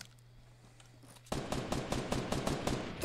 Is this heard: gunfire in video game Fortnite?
yes